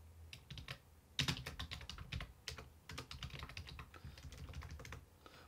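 Fast, uneven typing on a computer keyboard, with bursts of close, crisp key clicks and brief pauses between runs, heard alone.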